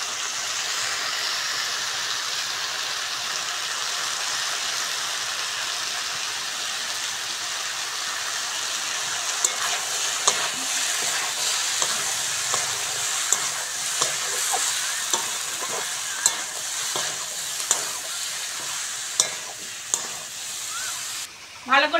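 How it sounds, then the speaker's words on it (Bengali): Fried prawns tipped into spice paste with cumin powder for a prawn curry with flat beans and eggplant, sizzling steadily in a pan while a spoon scrapes and stirs with sharp intermittent clinks in the second half. "মশলার সঙ্গে এবার ভেজে রাখা চিংড়িটা দিয়ে দেবো, পুরোটা দেবো না, হাফটা দেবো"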